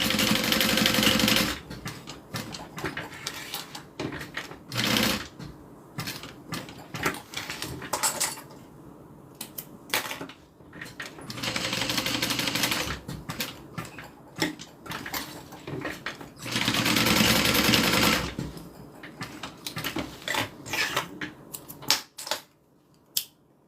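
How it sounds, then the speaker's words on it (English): Home sewing machine stitching a small square while finishing a crossbody bag strap, running in several bursts of steady fast whirring separated by short pauses, close and alone with no talk. "I just stitched a little square."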